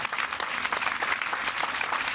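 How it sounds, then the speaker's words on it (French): Studio audience applause at a televised talk show recorded at the Livre sur le quai book fair in Morges, a dense steady clapping of many hands lasting throughout, fairly close and loud. "On vous applaudit très fort."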